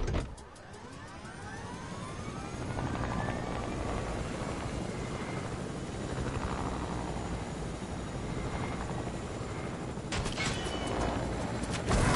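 Helicopter in the Fortnite video game, a continuous rotor and engine drone at moderate level, steady for the whole span, with a short burst of sharper game noise near the end and no talking.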